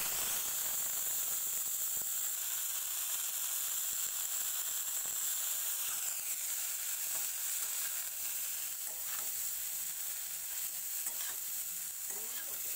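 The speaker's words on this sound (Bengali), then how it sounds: "একই কড়াইতে সামান্য একটু তেল দেবো, সাদা তেল, আর তারপরে এর মধ্যে ব্রকলিগুলো দিয়ে দেবো" Broccoli frying in white oil in a wok, a steady broad sizzle and hiss with occasional stirring scrapes, loud and close throughout with no voices.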